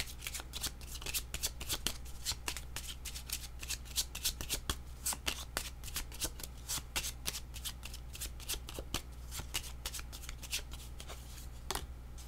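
Tarot cards being shuffled by hand, a steady run of crisp riffling snaps and soft slides that continues close and clear for the whole stretch, with no talking over it.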